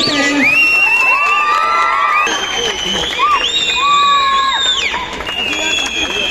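A crowd at a celebration rally cheers, whoops and shouts loudly, with children's voices and some clapping mixed into a continuous, close din.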